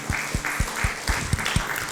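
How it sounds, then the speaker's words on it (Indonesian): A church congregation at a Sunday service claps together in steady applause, filling the room with a dense, continuous patter of hands and a few sharper claps standing out. "Berikan tepuk tangan untuk Tuhan Yesus."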